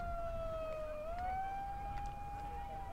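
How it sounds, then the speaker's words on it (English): A siren signalling time cap at a women's pool-play tournament game wails steadily in the distance, its pitch dipping and rising slowly over a low rumble of background noise. "The siren that you hear maybe softly in the background as well indicates that time cap has been called."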